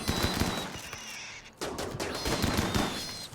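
Rapid bursts of gunfire in the colony game Rimworld, dense crackling volleys that pause briefly and resume, loud and close, with no talking.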